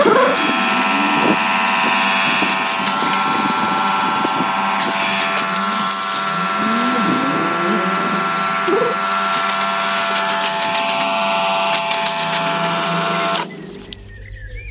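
Simulated gentle rain sprayed onto a 60L waterproof motorcycle dry bag holdall makes a steady, close hiss with a constant mechanical hum underneath, running unbroken before cutting off just before the end.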